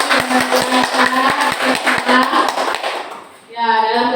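Applause for Bu Ani and Bu Anissa at a school activity, a crowd clapping with rapid, uneven rhythm, followed by a voice speaking as the clapping fades.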